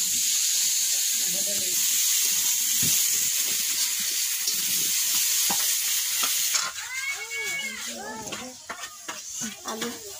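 Potatoes sauté in hot oil in a pan with a constant bright sizzle, joined by intermittent stirring scrapes and clatter; partway through the frying grows louder and harsher, with faint voices underneath.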